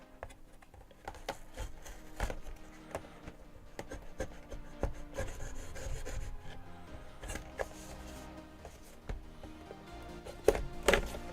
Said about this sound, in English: We'll use the mega scissors to open the box.